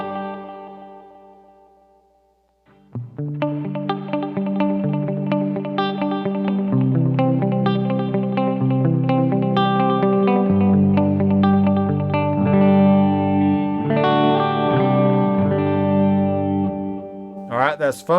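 Electric guitar played through a Headrush unit with a pitch delay set to 3/16 into a Bluguitar Amp1, the distorted notes ringing out with shimmering pitched repeats after a brief quiet start.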